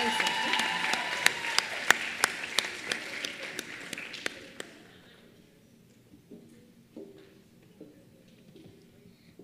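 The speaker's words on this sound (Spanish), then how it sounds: "Un aplauso." Applause at a dental aesthetics congress awards ceremony, a crowd clapping steadily for several seconds before fading to scattered claps, with some speech underneath.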